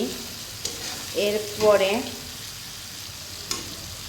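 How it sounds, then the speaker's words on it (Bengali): Cumin powder and spices frying in a pan for lemon shrimp, giving a soft sizzle with a few stirring scrapes, close and moderately loud; one brief spoken word. "এখন ভালো করে ভাজা ভাজা করে নিচ্ছি।"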